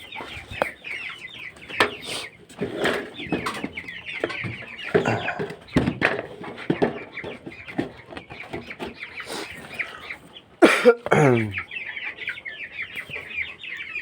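Several chickens cluck and chatter nearby in uneven bursts, with one louder squawk partway through.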